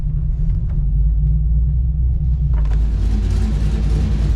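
Deep, steady Corvette V8 idle rumble with a slightly lumpy throb from an aggressive camshaft, close by; a soft rev briefly lifts the sound near the end.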